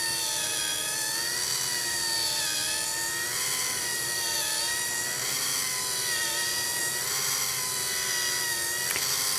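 Tape-making machine pulling a quilted fabric strip past a hot plate and ironing it, a steady loud mechanical whir with shifting tonal hum that runs unbroken throughout.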